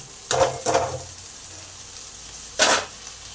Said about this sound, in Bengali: এবার এই মোচাটাকে ভালো করে এই মশলার সাথে কষে নেব